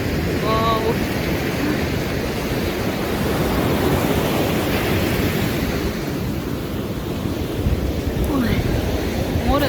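Strong Black Sea waves at a beach in Chornomorsk surge and crash continuously, a loud, steady roar of surf with wind rumble filling the whole stretch.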